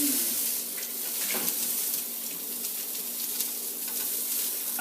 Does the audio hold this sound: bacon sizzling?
yes